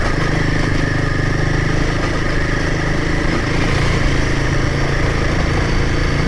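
A Royal Enfield Himalayan adventure motorcycle rides off-road on a wet, easy-gradient trail, its engine thumping steadily and loud throughout with no speech over it.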